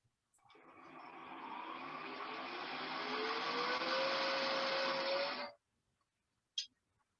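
Wood lathe spinning up at a woodturners' meeting, a smooth rising whine with a sliding pitch that holds steady for about five seconds, then cuts off abruptly, followed by a brief faint click.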